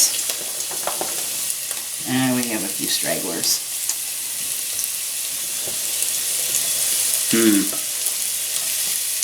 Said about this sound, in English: I'm just going to throw this right in. Ooh, listen to that sizzle.